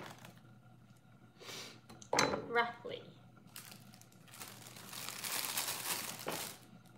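Lettuce being roughly cut on a kitchen board, soft crinkling crunches and a louder rustle partway through, faint and close, with a low background hum.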